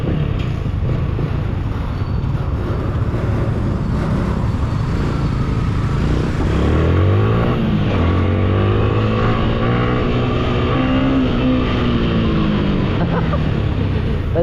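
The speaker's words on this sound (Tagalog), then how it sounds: "Ayan na ang traffic." Street traffic around a moving vehicle near a school on a busy morning: a steady engine drone and road rumble, with a nearby vehicle revving and passing loudly midway.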